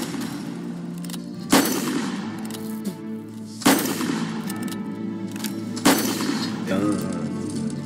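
A Naval Colt revolver fires three spaced shots in the Roblox game Bunker Hill, each a sharp loud crack with a ringing tail, over a steady bed of background music.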